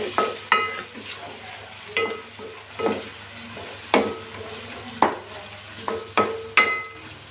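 Tomatoes sauté in a hot pan for masoor pulao, a steady sizzle broken by repeated sharp scrapes of a spoon stirring against the pot, roughly every second, close and fairly loud.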